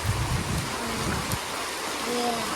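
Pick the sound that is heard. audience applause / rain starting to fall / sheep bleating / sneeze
rain starting to fall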